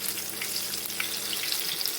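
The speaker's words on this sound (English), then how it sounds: "my tomatoes are frying merrily, as you can hear." Green tomatoes coated in polenta fry in a pan with a steady, close hiss and crackle of hot oil, continuous and fairly loud with no talking.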